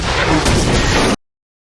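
A single loud, dense blast roars for about a second and then cuts off abruptly into silence, like a cannon firing up close.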